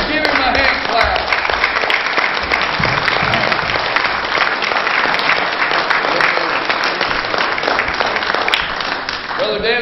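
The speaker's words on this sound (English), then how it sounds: "Give him a hand clap." A church congregation at a Pentecostal evening service breaks into loud, dense applause, a sustained roar of clapping hands that holds steady throughout, with voices mixed in beneath it.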